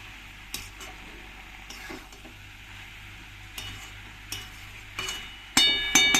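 Fried paneer, banana flower and potato mixed together in a pan, with soft sizzling under intermittent spatula scrapes and taps against the metal, ending in a louder clatter.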